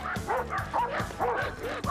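Several dogs bark and yip rapidly in overlapping bursts, close by and excited, with a whimpering edge to some calls.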